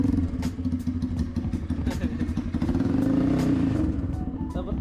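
Motorstar Explorer 250 V2 motorcycle fitted with an SC Project slip-on exhaust, its engine running loud and close with a throbbing, burbling note that swells as it revs, with people talking over it.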